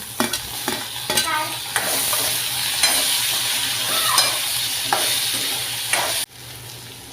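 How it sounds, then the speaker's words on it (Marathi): Onion and tomatoes being sautéed in a pan for a mutton masala, with steady sizzling and frying under repeated stirring and scraping clicks, fairly close and continuous with no talk. "कांदा परतून झाला आहे. त्यामध्ये टमाटे टाकून घेऊ."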